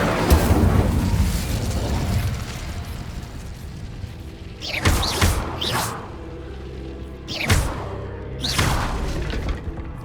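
Incendio fire spell blasts in the video game Hogwarts Legacy: a loud roaring burst at the start, then three more bursting whooshes with crackling impacts at intervals over a steady rumbling game backdrop.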